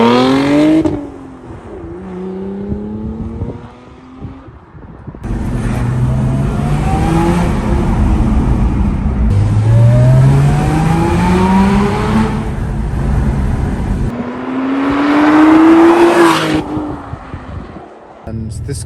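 Lotus Emira sports car engine accelerating in a somewhat muted tone, rising revs sweeping upward in several pulls with gear changes between them, heard from inside under occasional talk.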